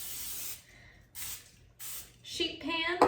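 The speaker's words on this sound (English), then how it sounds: "sheet pan with cooking spray and parchment paper here" Cooking spray hissing onto a sheet pan in short, close bursts, several sprays separated by brief pauses, with a clatter of handling near the end.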